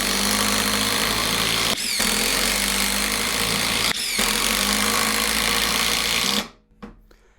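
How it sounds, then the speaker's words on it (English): DeWalt cordless impact driver set to high speed in forward, whirring loud and steady for about six seconds with two brief dips in pitch, then cutting off abruptly into near silence with a faint tail. "Alright guys, now it's time for the DeWalt. It's on high, on forward."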